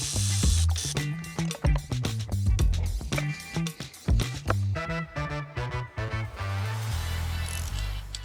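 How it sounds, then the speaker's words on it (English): A ratchet on the bolts holding the sump of a Peugeot 106 fitted with a superbike engine: loud, rapid clicking bursts in close, repeated runs, with a tonal, music-like backing throughout. "Then I've just got to undo all the bolts holding the sump on"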